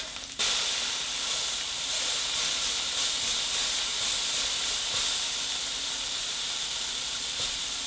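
A loco moco patty sizzles steadily in a hot pan just after being flipped, a loud, continuous close-up hiss and crackle with no talking.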